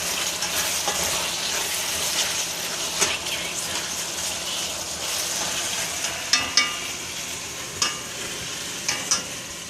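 Food stir-fries in a brown oriental sauce with a continuous loud sizzle, broken by scraping stirs and clattering tosses that land as sharp knocks toward the end.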